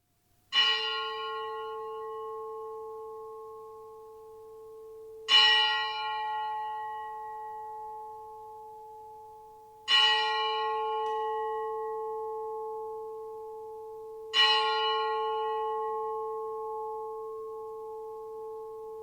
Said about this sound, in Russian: Благовесть – это медленные удары в самый большой колокол, что напоминает нам архангельскую трубу.